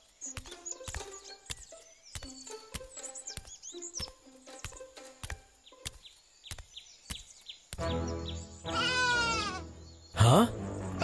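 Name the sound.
sheep bleating in animated Bible story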